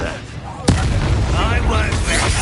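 A Confringo explosion spell from Hogwarts Legacy goes off with a sudden sharp blast partway through, followed by a rumbling, crackling tail under ongoing game sound and a speaking voice.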